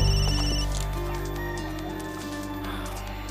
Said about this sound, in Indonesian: Ini bini gua telepon lagi.